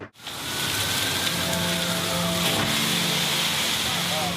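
Steady rain falls continuously at moderate loudness, with a soft hiss and faint tonal hum running beneath it.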